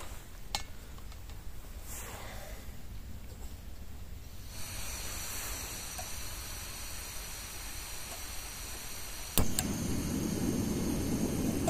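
A steady hiss of a small gas camping stove heating water fills the scene, joined later by a louder roar as the flame picks up, with occasional faint clinks, in a forest in November.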